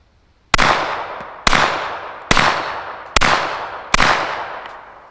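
A suppressed Glock pistol fires Remington 147 grain ammunition with a Wolfpack Armory Whisper Pickle suppressor, five sharp, evenly spaced shots, each a loud crack with a fading tail, close and alone.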